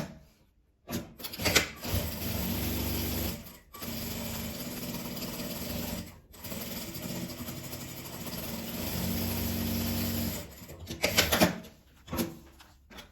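A sewing machine stitches fabric scraps and lining into a phone holder, running in long, loud continuous bursts separated by short silent pauses, with a few brief rustles of fabric handling between runs.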